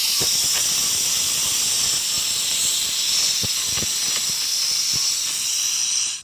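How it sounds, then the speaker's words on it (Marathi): Steady, loud steam hissing runs throughout with no pause, like a pressure cooker venting while cooking masala rice on a medium flame, with faint clicks beneath before it cuts off at the end. "आपल्या कुकरच्या शिट्ट्या झालेल्या आहेत"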